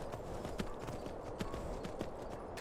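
A horse in Skyrim gallops at a steady clip, hooves thudding in a quick, even rhythm at moderate volume with no talk over it.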